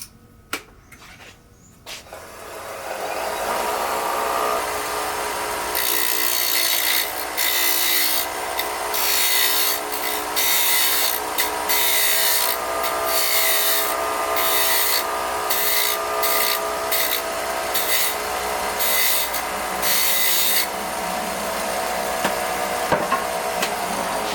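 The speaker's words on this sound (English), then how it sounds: "I'm going to cut down the spindle end of the cylinder to about 35 millimeters." Wood turns on a lathe as a tool cuts down the spindle end of a cylinder, giving a loud, steady motor hum beneath a rough scraping rasp that breaks into short pulsing bursts as the cut proceeds, close and continuous.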